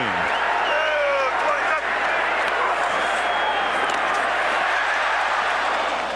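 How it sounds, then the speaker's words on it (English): Crowd noise fills a football stadium at a 2005 Redskins at Cowboys NFL game, a loud continuous roar that swells as a running back gets the ball, with a commentator's voice partly audible over it. "they got excited when he got the ball there as Lamar Marshall makes the tackle."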